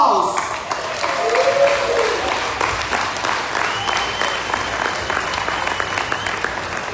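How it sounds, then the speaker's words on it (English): A crowd applauds steadily at a large event after a Bulgarian folklore ensemble's songs and dances, a broad wash of clapping that holds throughout, with a brief ringing tone and a voice near the start. "Big applause!"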